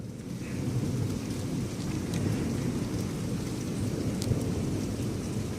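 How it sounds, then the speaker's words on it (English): A thunderstorm with rain and hail, heard as a dense, steady roar of precipitation beating on surfaces with low rumbling underneath and scattered sharper impacts throughout, with no talk. "The hail was the best part of the storm."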